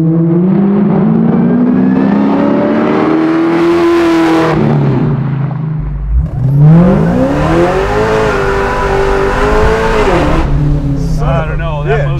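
A 750 hp supercharged LSA V8 in a 1970 Camaro restomod accelerates hard, its loud rising roar climbing through the gears, pausing briefly during a shift, then surging again, heard from inside the car with occasional talk.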